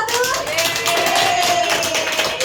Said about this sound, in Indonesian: Beri tepuk tangan dulu untuk tim 1